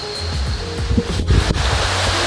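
Bidadari waterfall at Kakek Bodo, Pasuruan, East Java pours with a constant, close, broadband rushing roar of falling water, some wind buffeting the microphone, with no voices.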